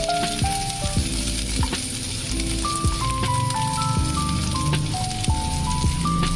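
Peanuts roasting in a hot pan for a coriander chutney give a steady close sizzle with scattered light rattles and pops, running unbroken throughout with no talking.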